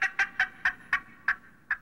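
A turkey's yelping call imitated with a mouth call: seven sharp, evenly spaced yelps in quick succession, close and clear, with no talking.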